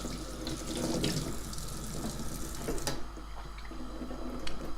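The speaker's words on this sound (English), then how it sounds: "I have to rinse my beef." Raw beef rinsed under a running kitchen tap, a steady close gush of water splashing into the sink with small shifts as the meat is moved. No talk.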